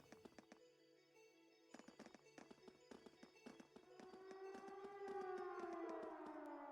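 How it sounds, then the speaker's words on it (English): In the video game Trails of Cold Steel, a stream of quick clicks and taps gives way to a siren from a fort, rising and wailing in long sustained tones. The siren sounds distant and fairly quiet. "Sounds like a siren. It seems to be coming from the fort."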